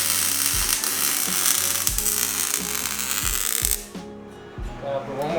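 Tack welds on a go-kart frame built from an old paddleboard, steady crackling buzz of the welder with a few short bursts, close and loud, the arc cutting out near the end.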